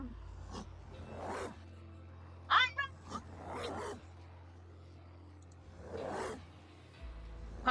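A dog attacks in the survival video game HumanitZ, with bursts of snarling and growling and a few sharp scuffling hits at moderate loudness over a low steady game hum.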